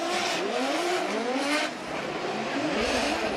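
Drift cars at a Formula Drift Japan event, including a new GR Corolla, rev hard with rising and falling engine notes layered over continuous tire squeal. Loud and close throughout, with two engines overlapping.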